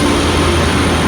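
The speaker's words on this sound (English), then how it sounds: "My train from Swindon is now leaving, which is 800 319" A Class 800 train, unit 800 319, departing Exeter station, heard as a loud, close, continuous rumbling roar with a high whine over it, steady for the whole moment.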